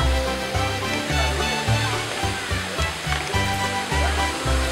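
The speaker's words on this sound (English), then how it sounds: "This is a cave and a waterfall." Loud, continuous rushing water with a steady roar from Ruby Falls, a waterfall inside a cave in Lookout Mountain, Chattanooga, Tennessee, with low rumbling and faint voices beneath.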